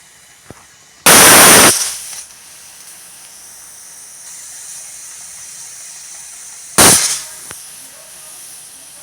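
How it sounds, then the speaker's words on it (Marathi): A pressure cooker on a gas stove lets out two short, loud bursts of hissing steam, several seconds apart, over a quiet background. "गॅसची फ्लेम हाय करून ह्या कुकरच्या आपण आता 2 शिट्ट्या करून घेणार आहे"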